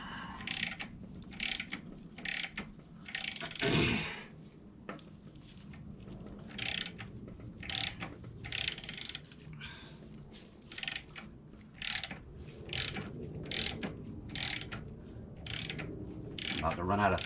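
Ratchet unscrewing a bolt during a damaged LQ4 engine teardown, with long runs of close, rapid clicking strokes separated by short pauses and one louder clunk partway through.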